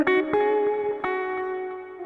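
An electric guitar run through compressor, delay and reverb effects rings out sustained, evened-out notes with a few fresh plucks, each tail echoing and smearing into a lush, spacious wash, played alone and close.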